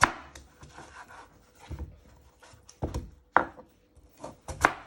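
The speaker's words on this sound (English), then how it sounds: "If you have a large potato like this one, you first chop it in half." A knife chops through a large raw potato on a cutting board in a few sharp, separate knocks with pauses between them, close and fairly quiet.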